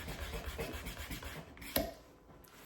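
Rapid back-and-forth scratchy rubbing of hand sanding a metal knife blade, steady strokes, quiet and close, ending with a small clink.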